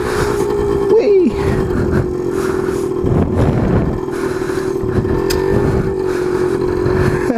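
A Suzuki DS100 motorcycle rides and revs throughout, its engine loud and close with a steady buzzing drone that rises and falls as the throttle changes, plus a brief clatter.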